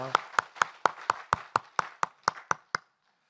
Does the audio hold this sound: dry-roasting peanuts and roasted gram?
no